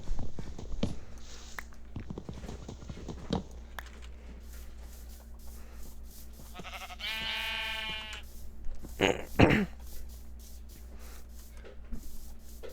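Minecraft sheep give a few bleats, one long wavering cry in the middle, over a steady low hum with scattered footsteps and clicks.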